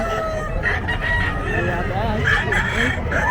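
Fighting roosters crow repeatedly at a Bocaue pet market, with loud, close crows and clucks over a busy background where people talk.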